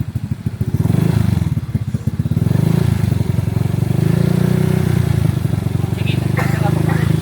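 A motorcycle engine with a muffler is held at about 2,500 RPM, a loud, close, steady throbbing drone that rises after a brief idle, with people talking over it.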